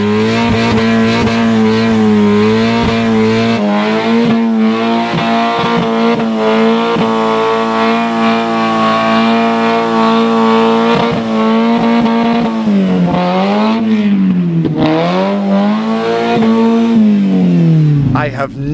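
A car revs hard and accelerates around a track lap, its engine note loud and sustained, rising and dipping through gear changes and corners for the whole stretch.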